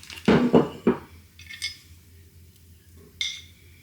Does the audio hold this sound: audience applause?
no